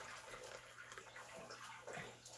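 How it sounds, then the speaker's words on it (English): Tea poured from a height out of a glass pitcher into a cup, a steady close splashing trickle running through the whole moment with a slight surge near the end. "I can do another high pour"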